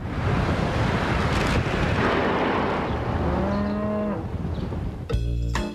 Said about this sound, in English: Cow. Yes, sweetie, cow.